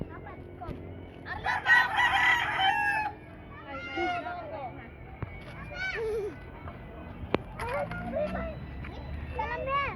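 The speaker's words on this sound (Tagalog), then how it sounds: "Look at that chicken, no?" Out along a rural road, a chicken crows loudly near the start, then clucks and calls a few more times at a moderate distance, while children chatter and play in the background.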